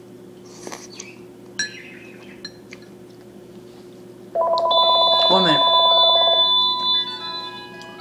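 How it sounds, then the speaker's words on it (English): A telephone starts ringing partway through with a steady electronic tone, loud and close, after a quiet stretch with a few small clicks and a brief spoken word. "got a phone call"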